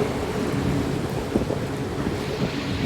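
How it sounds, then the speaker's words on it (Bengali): Steady rain pours down with a low, rumbling undertone of thunder, forming a continuous close hiss with a few brief louder patters and no voices. "বৃষ্টি পড়তেছে, বৃষ্টি অসাধারণ তো বৃষ্টি"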